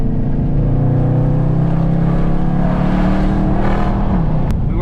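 A Dodge Charger Scat Pack's V8 rumbles loudly and close up, with a deep steady drone and a light rev swell near the end. No voices are heard.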